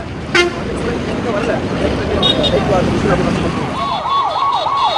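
Ambulance siren wailing through busy Chennai traffic, rising and falling in a steady repeating sweep near the end, over dense engine noise, horn toots and voices of people talking nearby.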